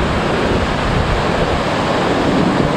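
Steady roar of surf breaking close by in the rain, a continuous wash of crashing water carrying seaweed, with a wind-like rush and no voices.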